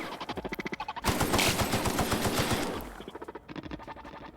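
Rapid machine gun bursts in the sci-fi shooter The Outer Worlds, a clipped rhythmic rattle of shots, then a loud sustained volley of blasts, then another quick burst trailing off.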